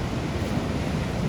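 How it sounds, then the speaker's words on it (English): Ocean waves wash steadily onto the shore in a continuous broadband surge, with a bit of wind buffeting the microphone. The short stretch is loud and unbroken by voices. "Love the ocean."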